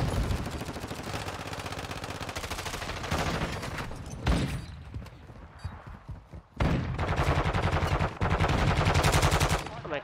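Automatic gunfire in Call of Duty DMZ, loud rapid bursts chattering for several seconds, breaking off briefly into a quieter gap, then resuming in fast sustained volleys.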